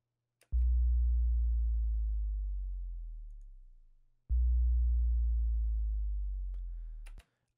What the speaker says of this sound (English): Just making the sub drop and then using R-Bass and Maxim to kind of just even out the low end